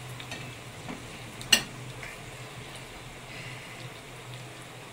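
Fenugreek seeds and dried chilli frying in hot oil for tomato chutney, a steady soft sizzle with faint crackles and stirring, one sharp pop standing out near the start.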